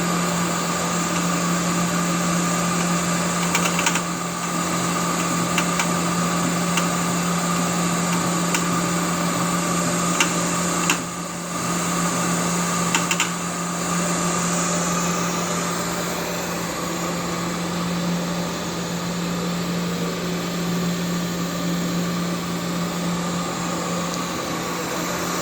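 Koyo KVD-450C CNC vertical double disc grinder running its carrier oscillation cycle, a steady machine hum with a strong low drone and high whine, continuous and fairly loud, with faint clicks and no talk.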